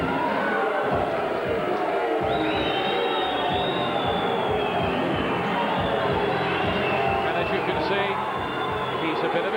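Crowd murmur and cheering fill a boxing hall at a flyweight bout between Peter Culshaw and Ian Napa, a steady dense roar with a whistle-like tone and a commentator talking over it throughout.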